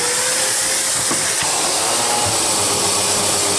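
Hoover Constellation vacuum cleaner running, a loud continuous whooshing roar with a steady hum that holds level throughout.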